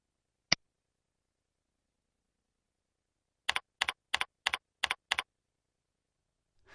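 Typing a password on a computer keyboard: one isolated click, a pause, then six crisp evenly spaced keystrokes close up in a quiet room, with no talk.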